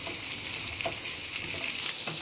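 Onions, ginger and fennel seeds are tossed in hot frying oil for a boti curry, giving a steady close sizzle with faint stirring scrapes throughout.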